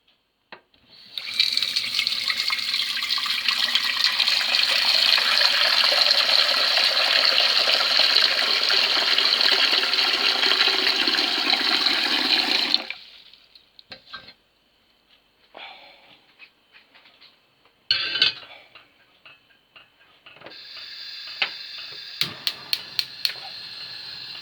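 A kitchen tap runs hard for about twelve seconds, filling a pan with water to boil vegetables for blanching; it then stops and is followed by scattered clatter and a second, quieter gush.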